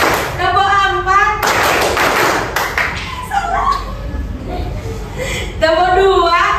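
Children clapping in rhythm during a classroom clapping chant, sharp bursts of claps alternating with sung counting voices, close and fairly loud.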